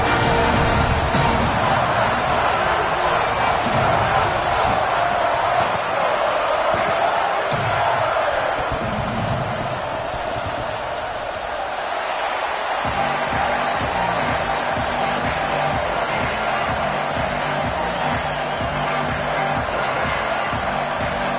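BYU Cougars home crowd at a college football stadium played at elevation roars in a sustained, distant wash of cheering and noise, with rhythmic chanting or stomping in the later part.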